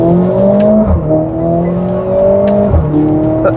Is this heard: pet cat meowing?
no